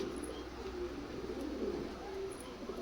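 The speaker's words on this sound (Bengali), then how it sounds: "একটা মাদা আছে নীল কামাগার মাদা পায়রা" A blue Kamagar female pigeon cooing softly, a low murmuring coo close by with faint background noise and brief high chirps.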